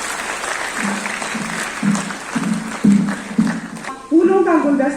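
Applause from the audience at the 68th All India Cooperative Week inaugural program in Teachers Bhawan, Jammu. Steady clapping runs throughout while a voice speaks over it, and the voice grows louder near the end.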